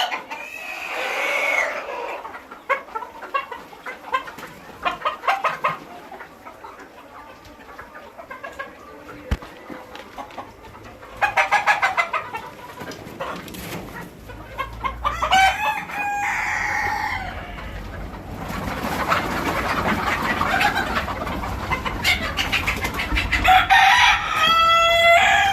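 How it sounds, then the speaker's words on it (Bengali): Egyptian Fayoumi hens and roosters in a poultry shed give repeated clucks and several loud, close crows, with overlapping calls and quieter stretches of chatter between them. "ডিমের রাজা ফাউমি, মিশরিয়ান ফাউমি মুরগি।"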